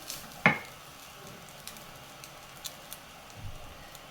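Chopped spring onion is stirred into a pan of frying butter, garlic, paneer and rice. A soft clatter as it goes in is followed by a faint, steady sizzle with occasional light ticks from the pan.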